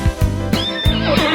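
A horse neigh sound effect gives a loud, clear whinny with its shaking, falling rise and fall, heard alone with no talking.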